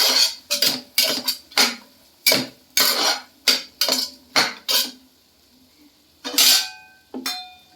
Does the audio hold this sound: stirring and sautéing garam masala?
yes